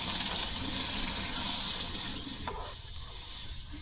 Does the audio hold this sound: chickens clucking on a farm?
no